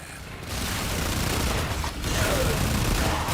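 Sustained, dense gunfire in the Warframe video game, a near-continuous loud barrage of rapid shots pouring out for the whole stretch with brief dips in intensity.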